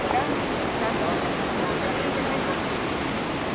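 Niagara Falls roars as a dense, continuous rush of falling water, loud and unbroken, with no distinct breaks or other clear sounds on top.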